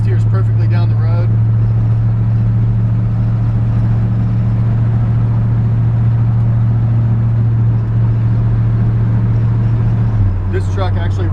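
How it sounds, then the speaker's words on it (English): A 1957 Chevy 3100 pickup with a Nova front clip drives down the road, its engine holding a loud steady drone with a drop in pitch near the end as the transmission shifts, while someone talks over it at the start and end. "You can hear the transmission shifts perfectly."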